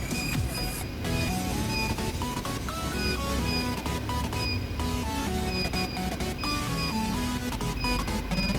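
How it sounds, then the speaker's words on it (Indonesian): A vehicle emission tester's printer running during an emissions test on a Toyota Xenia with a K3-VE engine, giving a steady, close, rhythmic whirring and stepping feed with no voices. "Kita tekan hold, terus kita print."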